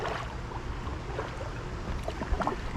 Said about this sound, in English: I hear some water rushing